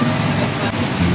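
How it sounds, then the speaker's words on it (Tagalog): Heavy rain pouring down hard, a dense continuous loud hiss of drops hitting surfaces close by, with no pauses across the short stretch. "Lakas ng ulan."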